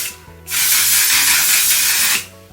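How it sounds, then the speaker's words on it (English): Makeup setting spray pumped in one long continuous burst lasting nearly two seconds, a loud close hiss over faint background music, starting and stopping abruptly. "Oh, I like how that sprays."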